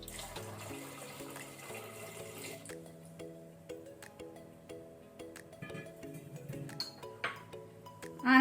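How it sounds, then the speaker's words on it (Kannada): Water poured into a pressure cooker holding rajma (kidney beans), a steady liquid gush at first, then quieter trickles and splashes, ending in a louder burst, with no talk over it. "ರಾಜ್ಮಾವನ್ನು ನಾನು ಕುಕ್ಕರ್ಗೆ ಹಾಕೊಂಡೆ. ಒಂದು ವೇಳೆ 1 ಲೋಟ ರಾಜ್ಮಾ ಇದ್ರೆ 3 ಲೋಟ 3 ಗ್ಲಾಸ್ ನೀರು ಹಾಕೊಳ್ಬೇಕು. ಸೊ ಈಗ ನೀರು ಹಾಕೊಳ್ಳುವ."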